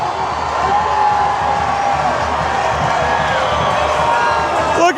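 Soccer crowd in a stadium roaring after a last-minute winning goal, a loud, continuous wall of cheering and shouting that fills the whole stretch without letup.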